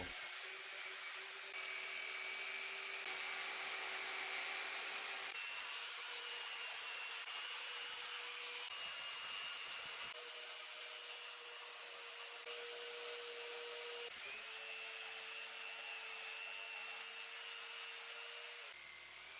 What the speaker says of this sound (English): No better way to do this than with a jigsaw.